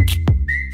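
A human voice whistles like a falling missile, a short descending whistle followed by a sustained high tone, close and loud, imitating the sound.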